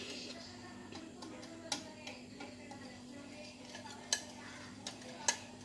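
Cream for a no-oven chocolate cake is whisked by hand, a soft steady swishing with occasional faint clicks of the whisk against the bowl, quiet and close.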